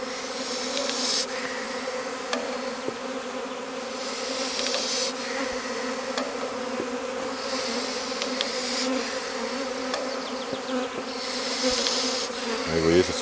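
A honeybee swarm buzzing steadily around a hive outdoors, a continuous droning hum with individual bees passing close now and then, with no voices over it.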